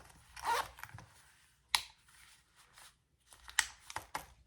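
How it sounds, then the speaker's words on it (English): A zipper is opened on a sewn crossbody bag: several quick, close zips and rasps spaced over a few seconds, with quiet fabric handling in between. "So I just open up my zippers, and I have my little zipper pocket."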